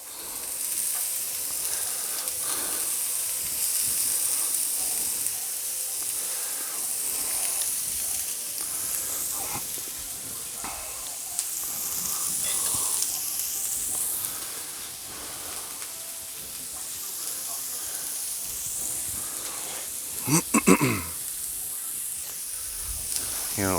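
Onions, carrots and celery stir-fry on a Blackstone flat-top griddle for shrimp fried rice, giving a steady close sizzle and hiss with scraping stirs throughout and a louder burst of spatula clatter near the end; no talking.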